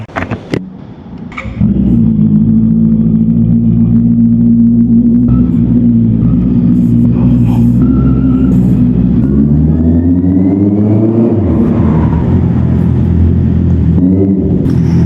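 A car driving on the road, heard from inside as a steady, loud engine drone and rumble that shifts pitch and swells midway as the car speeds up, with no voices.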